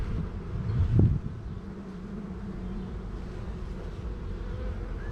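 Soft honey bee buzzing hums steadily through the clip, with a brief louder rustle near the start and no voices.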